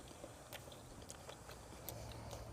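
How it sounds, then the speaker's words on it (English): Someone chews crunchy bread and sausage at an Argentine asado, close and soft, with scattered crisp bites and crunches over a quiet background and no talk. "Crunch from the bread, snappy casings"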